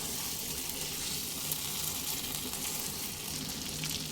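Pointed gourd mixed with yogurt frying in a pan over a medium gas flame, giving a steady, dense hiss of oil that holds evenly throughout, near and unbroken by speech.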